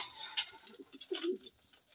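Pigeons kept as racing birds cooing softly in a loft, a few low, rounded coos rising near the end over faint background chirps and ambient noise, with no talking.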